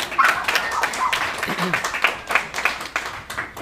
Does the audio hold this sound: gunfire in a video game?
no